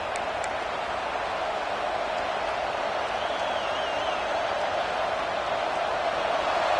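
A stadium crowd in a college football video game roars steadily on a big third down, a dense, loud wall of cheering that holds evenly throughout.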